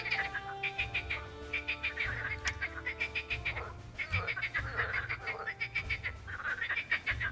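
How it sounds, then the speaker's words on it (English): Frogs in an Unreal Engine video game croak in quick rhythmic trills that repeat over and over, layered above a steady low ambient hum and lasting the whole clip. "There are frogs here."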